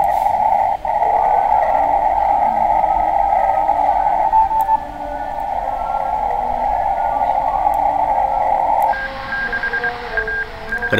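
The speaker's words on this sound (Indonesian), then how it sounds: "Ini Morse nih, mau dengerin Morse." Morse code signal from a radio, a loud steady tone running several seconds before shifting to a higher, quicker keyed pattern, with no talk over it.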